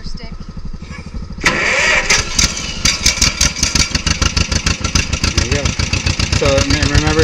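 A tractor engine turns over and catches, then runs with a loud, close, rhythmic chugging that rises and falls as it is revved, while people talk over it.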